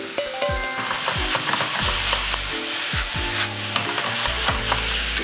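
Glass noodles being stir-fried in oil in a pan for Korean japchae, with steady close frying sizzle and repeated scraping, tossing strokes of a utensil against the pan, no voices.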